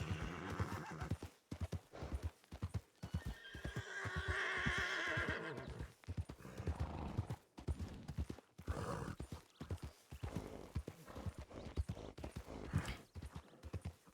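In the Red Dead game, a horse whinnies and neighs loudly over repeated clip-clopping hooves, with bursts of rustling and movement in between, all close and fairly busy.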